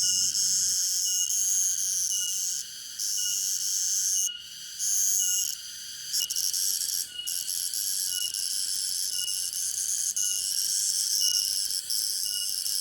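Cicadas buzz outdoors in a dense, high, pulsing drone that stays loud and steady, with brief breaks and restarts, and no talk.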